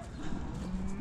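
Cattle in a field, likely Limousin cows, let out a single long, low moo that is close and fairly loud, filling the short moment on its own.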